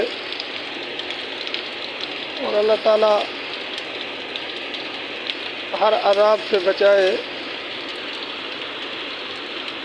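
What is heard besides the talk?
rain falling steadily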